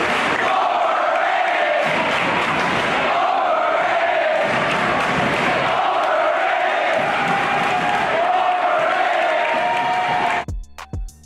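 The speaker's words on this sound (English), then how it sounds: "you know the crowd's gonna chant overrated" Basketball arena crowd roaring and chanting in rhythmic waves at a game, loud and sustained for about ten seconds before cutting off abruptly.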